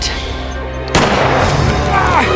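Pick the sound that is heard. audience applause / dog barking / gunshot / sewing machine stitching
gunshot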